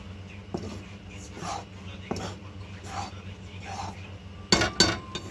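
Methi ladoo mixture being stirred in a pan over low gas: intermittent scraping and clinking of a spoon against the pan, with a couple of louder metallic knocks near the end.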